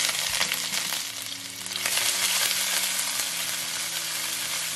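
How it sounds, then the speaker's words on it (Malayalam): Dried chillies, ginger, garlic and shallots sizzle steadily in hot oil for a Kerala-style rasam, a continuous close frying crackle with faint stirring scrapes, no voices. "ഇനി സ്റ്റൗ ഒരു മീഡിയം ഫ്ലെയിമിലേക്ക് വെച്ച ശേഷം ഇതൊരു ഗോൾഡൻ കളർ ആവുന്നത് വരെ വഴട്ടുക"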